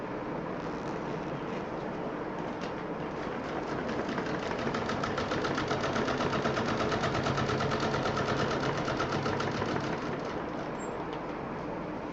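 A sewing machine runs a steady double seam on green cloth, giving a continuous fast mechanical whirr and rapid stitching rattle, close and even throughout with no talking.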